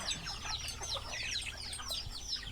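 Free-range village chickens clucking as they are fed bran and rice feed outside their pen, a soft, continuous chorus of overlapping clucks from several birds.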